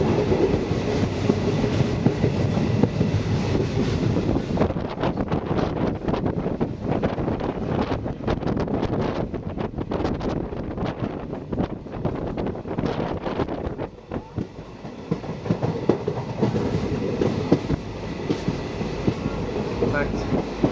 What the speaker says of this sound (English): I'll try not to fall out of this train.